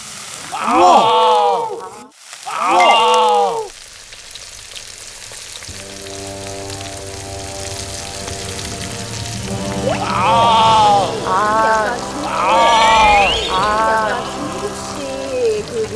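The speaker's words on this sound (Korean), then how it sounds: "뜨거운 기름을 부어가지고 순간적으로 향을 확 내는 거야" Hot cooking oil poured onto ramen seasoning hisses and sizzles steadily in the background while a person talks in bursts over it, close by and fairly loud.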